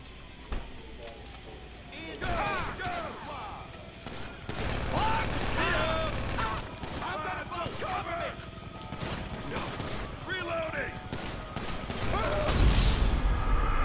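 Rapid bursts of video game gunfire from Grand Theft Auto V crackle repeatedly throughout, mixed with crashes and impacts, while someone talks excitedly over the action and game sounds swell louder toward the end.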